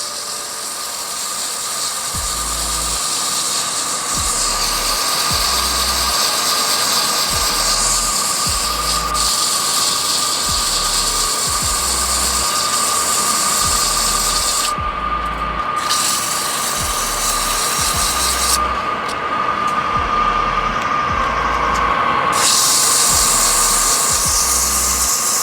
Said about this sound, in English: I'm just going to hit this with sandpaper real quick.